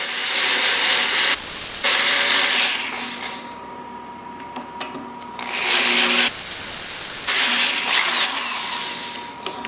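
A power drill fitted with a modified Harbor Freight bit grinds steadily into a hard steel plate in several long bursts, with brief pauses between them and a high whining edge throughout.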